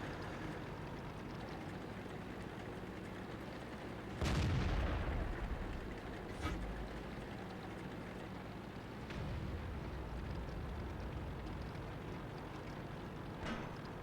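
World of Tanks artillery fire: a deep boom bursts out around four seconds in, and fainter thuds follow over a steady rumbling game ambience.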